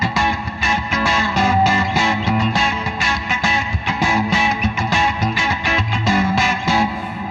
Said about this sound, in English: ran the original guitar track through 3 Fender twin reverb amps set at different tremolo speeds